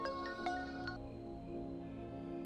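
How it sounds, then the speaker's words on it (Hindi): A mobile phone rings with a faint melodic electronic tone, its pattern shifting partway through, heard alone at low volume. "शैलू का फोन है।"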